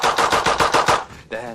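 A revolver fired in speed shooting, about seven sharp shots in extremely fast regular succession over one second, loud and close, followed by a brief ringing tail.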